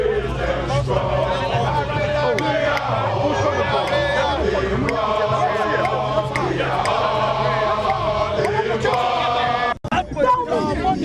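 An agitated crowd of protesters at barricades near Jubilee House at dusk fills the air with loud, overlapping shouting and chanting voices, a dense close babble that keeps going, with a sharp jolt near the end.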